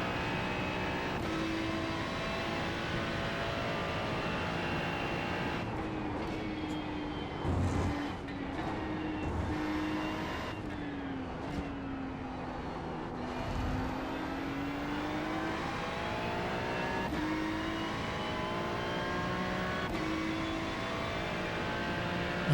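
A damaged Ferrari race car in the iRacing sim at Portland drones with a steady engine tone that rises and falls gently with throttle, continuous and fairly quiet, with no talking.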